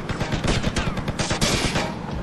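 Dense, rapid gunfire from GTA Vice City on PS5: overlapping automatic bursts and sharp shots crackle loudly and continuously with no pause, in a busy game soundscape.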